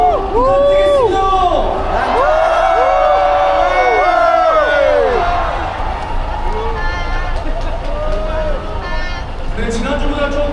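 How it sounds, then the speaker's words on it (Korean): A large crowd at a street demonstration in Seoul cheers and whoops with loud, overlapping voices rising and falling, a dense continuous roar filling the space. "힘찬 박수와 함성 부탁드리겠습니다."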